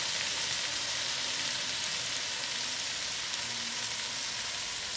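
Soya chunks frying in a pan on low heat, an even, steady sizzle with a soft crackling hiss and no stirring or voices.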